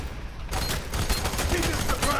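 Gunfire in the video game F.E.A.R. 3, a dense burst of rapid shots starting abruptly and continuing steadily, loud and close.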